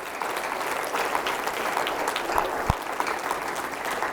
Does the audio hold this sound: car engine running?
no